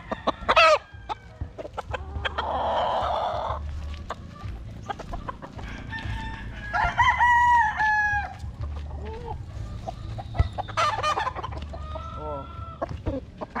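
Roosters crow repeatedly and hens cluck at a poultry farm, several birds calling near and farther off, the crows rising and falling over a low background rumble, with faint human voices now and then.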